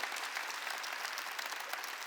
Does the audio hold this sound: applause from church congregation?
yes